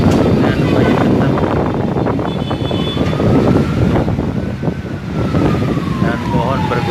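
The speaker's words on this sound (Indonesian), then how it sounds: "Jakarta Barat anginnya lumayan kencang" Strong wind gusts in West Jakarta buffet the microphone with a loud, continuous low rumble while trees sway, and a faint wailing tone drifts through in the middle.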